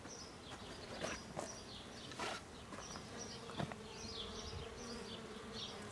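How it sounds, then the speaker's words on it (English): Honey bees buzz steadily around the side of a hive, a continuous close droning with individual bees swooping past the microphone in brief louder passes, and faint birdsong in the background. "But there are a lot of bees scattered"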